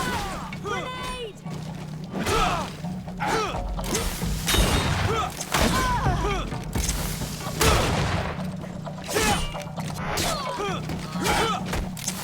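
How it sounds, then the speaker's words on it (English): Grenade explosions and gunfire boom and crash through a Greedfall battle, heavy thuds and bursts layered over loud, continuous combat noise while character voices shout throughout. "Grenade!"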